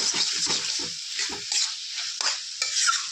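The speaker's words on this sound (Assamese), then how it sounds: "আকৌ অকণমান ধুনীয়াকৈ ভাজি ল'ম" Drumstick curry being stirred and fried in a wok, with a spatula scraping and clattering in quick bursts over a steady sizzle, close and fairly loud.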